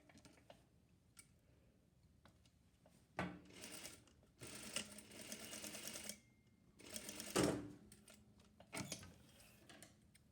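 Sewing machine stitching the back seam of pajama pants, running in several separate bursts of a few seconds each with quiet pauses between, close and moderately loud.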